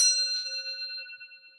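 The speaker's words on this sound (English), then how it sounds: "I'm going for the gong for Catherine's grandfather." A single struck gong rings once with a bright attack, then a clear sustained metallic tone that fades steadily over a second and a half, alone and fairly quiet.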